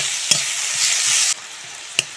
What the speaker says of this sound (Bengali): টমেটো দিয়ে লবণ দিয়ে আবারও কিছুক্ষণ নেড়ে চেড়ে ভেজে নেব।